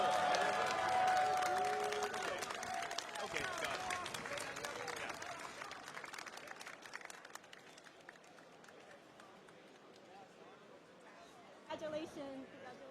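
Crowd applause and cheering at an Evo fighting-game tournament showcase stage, loud at first and then slowly thinning, with a brief renewed burst near the end and an announcer's voice over it.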